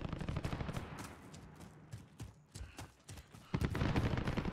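Rifle shots from a sniper engagement in Modern Warfare: several sharp, separate gunshot bursts scattered irregularly over a low rumbling game background, with a heavier stretch of noise toward the end.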